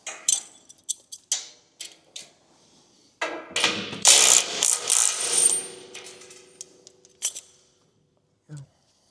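Metal bolts on a lift shipping crate being worked loose with channel-lock pliers: rattling clinks and scraping metal clatter in uneven bursts, with a longer grinding stretch in the middle, close and without talk.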